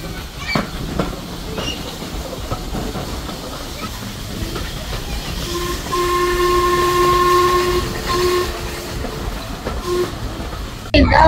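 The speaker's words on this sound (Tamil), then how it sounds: "இப்பதான் ட்ரெயினோட மூவ்மெண்டே தெரியுது." A steam train rumbles along with hissing and clattering, and a sustained whistle tone sounds midway through the steady noise.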